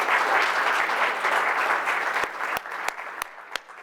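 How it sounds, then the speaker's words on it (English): A conference audience applauding steadily in a room, then thinning out into a few final scattered claps. "can we start with a round of applause"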